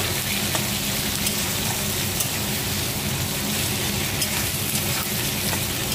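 Curry leaves and ground spices sizzling steadily in hot oil in a pan, a dense continuous crackle and hiss at an even, close level with no talking.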